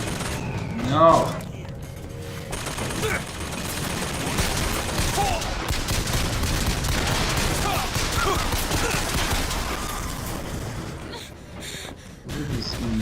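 Automated turret gunfire in BioShock Infinite, sustained rattling bursts of machine-gun fire filling the scene, with a voice exclaiming over the shooting.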